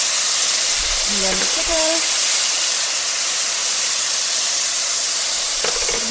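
Soy sauce hitting a hot pan sets off a loud, steady sizzle and steam hiss that runs the whole time, while a voice speaks briefly over it.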